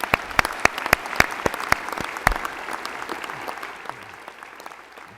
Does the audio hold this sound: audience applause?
yes